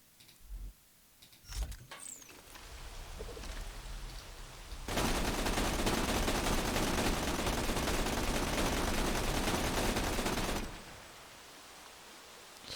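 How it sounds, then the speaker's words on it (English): Sustained machine gun fire in Borderlands 2 during a big game hunt with Zer0, starting as scattered shots and then becoming a loud, dense unbroken roar for about six seconds before it cuts off. "I think from this range the machine gun's probably a good call"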